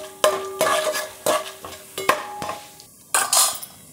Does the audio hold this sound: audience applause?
no